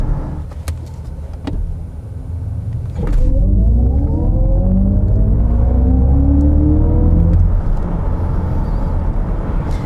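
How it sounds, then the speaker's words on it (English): An Audi S6 e-tron Avant electric wagon makes a full launch, its loud rising electric motor whine sweeping upward in pitch over a deep road rumble, steady and close with no voices. "we get the full best acceleration the car can give you"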